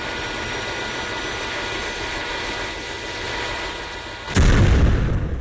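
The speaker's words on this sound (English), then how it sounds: "The rocket turbine began to shake and roll, and then the rocket exploded, causing the seat to be ejected." Steady roaring rumble of a rocket turbine shaking in the Roblox game A Desrt, ending in a sudden loud explosion burst that booms and then fades slightly.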